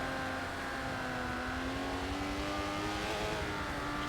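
Aston Martin DBR9 race car in a racing video game at Hockenheim, its engine holding a loud sustained high drone that climbs slowly in pitch under steady throttle, close and continuous without speech.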